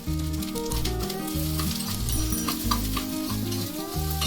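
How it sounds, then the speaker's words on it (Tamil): Garlic and coconut sizzle steadily in a hot pan for coconut chutney, a close, continuous frying crackle with some stirring and no talk. "பூண்டு, தேங்காய் எல்லாத்தையும் ஆட் பண்ணிவிட்டு லைட்டாக ஒரு தடவை வதக்கிட்டு"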